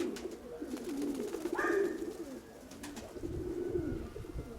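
Pigeons in a loft coo repeatedly in low, soft, rolling calls that carry on steadily throughout, close by, with a faint higher call briefly rising above them and no one talking.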